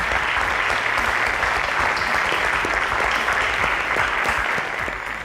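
A quiz show audience applauds the competing school teams: a dense, steady round of clapping that fills the space continuously, easing off slightly near the end.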